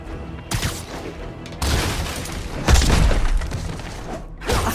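Enemies fire on Marvel's Spider-Man in a series of loud bursts and impacts. Sharp onsets are broken by short gaps, and one heavy booming hit lands midway, with no voices heard.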